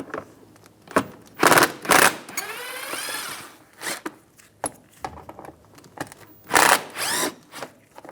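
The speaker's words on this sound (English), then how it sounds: "Take these screws out." Mud flap screws coming out of a 2010-2016 Cadillac SRX, with short, close bursts of ratcheting and whirring tool sound alternating with brief quiet gaps and light taps.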